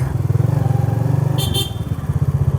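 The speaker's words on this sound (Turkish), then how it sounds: "Hala kornaya basıyor arkada bak bak bak." A car horn gives two short honks in quick succession from a car behind, over the loud, throbbing idle of a nearby engine in traffic.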